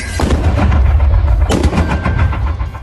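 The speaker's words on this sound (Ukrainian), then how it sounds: "Вистріл!" Two loud, sharp gunshots about a second apart, each followed by a rolling echo.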